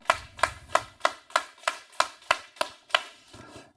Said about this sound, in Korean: 박수 10번 시작.